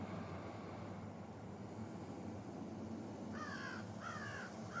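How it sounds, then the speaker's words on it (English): Crows caw outdoors in a few short bursts of two or three harsh calls toward the end, moderately near, over a steady low background hum. "I think the crows like it too."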